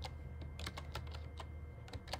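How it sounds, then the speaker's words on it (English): Rapid, close keystrokes clatter on an Apple eMate 300 keyboard, an uneven run of crisp clicks and taps over a low background hum. "trying to type with the camera right here"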